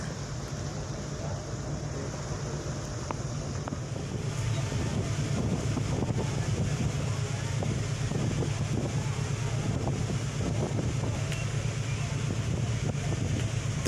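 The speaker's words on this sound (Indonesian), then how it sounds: "saat ini kapal KM Binaya sedang melewati pulau-pulau di perairan sekitar Labuan Bajo" Pelni passenger ship KM Binaiya cruises past islands in the waters near Labuan Bajo, a steady low engine hum beneath constant rushing wind on deck, growing slightly louder midway.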